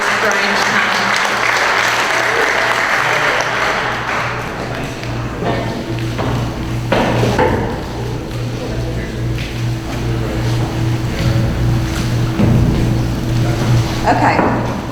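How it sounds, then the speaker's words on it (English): An audience applauds chamber president Terry Smiley with steady, loud clapping that lasts the whole stretch, mixed with some knocks and a low hum underneath. "I really want us to give her a great round of applause"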